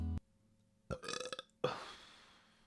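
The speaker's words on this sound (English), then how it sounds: "That's a spicy burp." After a short tone, someone nearby lets out a long, rumbling burp that breaks into a second gurgling burst, in otherwise quiet surroundings.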